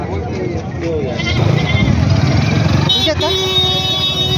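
Goats bleat repeatedly over a noisy crowd at a busy goat market in Jawala, Maharashtra, with people talking and vehicle engines rumbling nearby.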